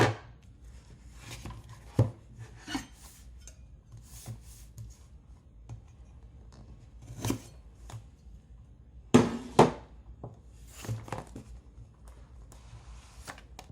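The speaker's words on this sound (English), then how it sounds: "let's go ahead and take out the unboxing knife" A utility knife slices through the tape and seals on a Sony Xperia XA2 smartphone box, giving scattered short scrapes and ticks, with two sharper cuts late on, close and fairly quiet.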